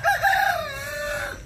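A rooster crows once on a farm, a loud, close cock-a-doodle-doo with a rising start and a long drawn-out finish over quiet background.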